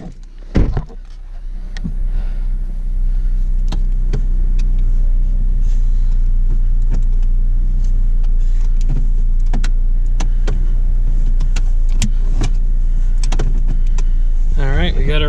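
A rebuilt Dodge Dart engine, salvaged from a wreck, idles steadily with a loud, even low rumble after a brief start-up burst, with scattered clicks and knocks over it.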